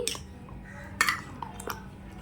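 A spoon stirs fruit salad custard in a bowl, giving a few light clinks and scrapes against the dish, with one sharper clink standing out over a quiet background.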